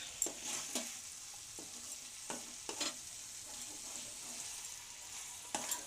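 Cauliflower stem curry stirred in a pan, with soft scrapes and knocks of the spoon at irregular intervals over a faint, steady sizzle, close and fairly quiet.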